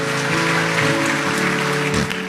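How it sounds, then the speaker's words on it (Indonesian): A church congregation claps in dense, loud applause that fills the room, with sustained musical tones ringing underneath and no talking. "Sekali lagi kita berikan tepuk tangan yang meriah buat Tuhan Yesus"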